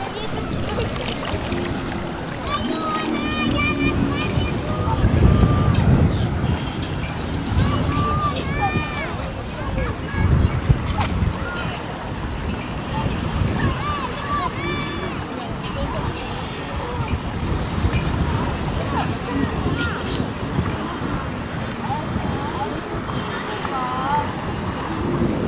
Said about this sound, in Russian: Ну и, как всегда, по традиции для вас море